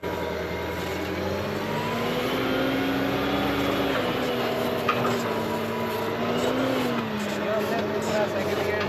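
A 10-ton forklift engine runs steadily close by, driving through water, a loud droning hum with slight shifts in pitch and a faint voice underneath.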